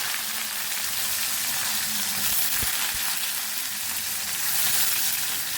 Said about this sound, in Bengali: এবার আমি ছাতুটা ফ্রাই করার জন্য পরিমাণ মতো নুন দিয়ে দিচ্ছি, দুটো তেজপাতা দিয়ে দিচ্ছি, এখানে কেটে রাখা পেঁয়াজটা দিয়ে দিচ্ছি।